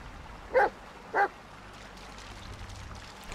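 Two short dog barks or yips from a dog in the Blair Witch video game, well spaced over a low, steady ambient background, with no talking.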